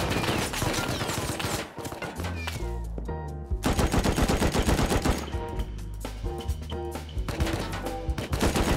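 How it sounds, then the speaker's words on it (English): Rapid gunfire from the survival video game Rust, dense bursts of shots layered over game music and effects, loud and continuous with brief pauses between volleys. "Are they shooting at me?"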